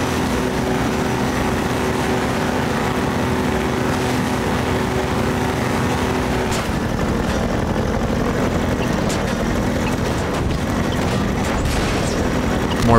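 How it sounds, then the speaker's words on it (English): Helicopter in the video game Half-Life 2: a loud, continuous mechanical rotor drone with steady low thrumming, joined partway through by scattered clanks and impacts. "It's a fucking chopper again."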